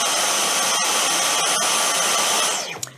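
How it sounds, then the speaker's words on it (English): A Dyson V15 Detect cordless vacuum cleaner runs with a loud, steady high-pitched motor whine and airflow roar, then winds down with a falling pitch near the end, with no voices. "Now I'm going to turn the vacuum on here."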